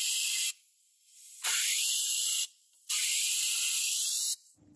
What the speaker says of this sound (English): For that, I just like to use compressed air.